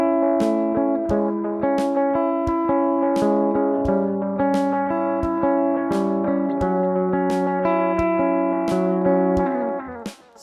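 An electric guitar runs through a delay pedal set to dotted-eighth repeats, so a steady run of picked notes blurs into layered echoes. It plays loud and continuous for about ten seconds, then cuts off abruptly.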